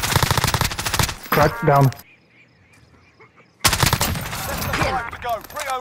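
Rapid video-game gunfire in a tactical online shooter, bursts of automatic fire and single cracks around a quiet gap, loud and close under excited team talk.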